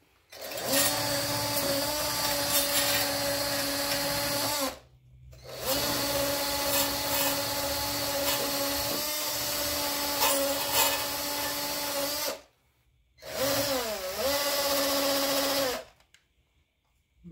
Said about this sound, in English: we're just going to take a wire wheel on a drill clean up here and here